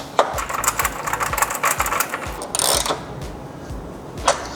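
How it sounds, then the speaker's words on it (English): A 12mm socket ratchet tightens a bolt on a hi-lift hood strut for a 1993–2001 Subaru Impreza, giving a run of quick, close metallic clicks in rapid bursts with brief pauses between strokes. "grab a 12mm socket and fully tighten this down"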